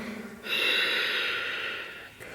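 Deep, audible breathing during a yoga pose: a long, close, airy breath that swells and then slowly fades, with no talking over it.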